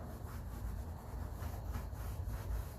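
Oil grease being rubbed onto the bonnet of a 1957 Ferguson 35 TVO tractor, a steady close scrubbing and rubbing texture that runs without a break.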